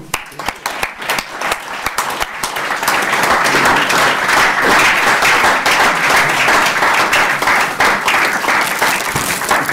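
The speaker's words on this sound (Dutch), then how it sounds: "een welgemeende proficiat en een hartverwarmend applaus" A municipal council meeting breaks into sustained, loud applause for a retiring colleague, the clapping swelling after a couple of seconds into a dense, steady ovation from the whole room.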